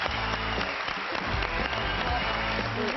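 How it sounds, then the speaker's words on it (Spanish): Studio audience applause on a Spanish television show set: a thick, continuous wash of clapping that stays loud throughout. "Sí, un aplauso para Mónica Estarriado."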